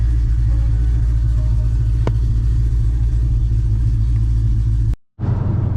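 A 1000 hp Hellephant engine on race fuel idles with a deep, heavy, steady rumble close by, broken by one brief dropout near the end before the rumble resumes.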